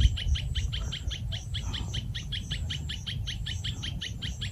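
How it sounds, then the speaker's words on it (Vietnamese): A red-whiskered bulbul calls near its nest in a coffee tree, repeating short, bright chirps in a quick, steady series over faint insect-like background noise. "Chắc là chào mào các bạn."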